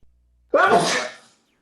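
One sharp, close sneeze bursts out of near silence in a quiet indoor online class setting, ending quickly.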